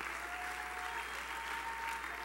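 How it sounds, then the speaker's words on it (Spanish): A church congregation applauds during a Spanish-English sermon, a steady, even wash of clapping held at moderate distance with no break across its short span. "Christ, applaud to Him with liberty."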